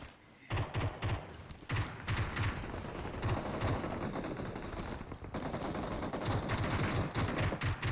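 Repeated bursts of automatic and single gunfire from a PUBG Mobile battle royale firefight, loud and close, coming in rapid volleys with brief gaps between them throughout.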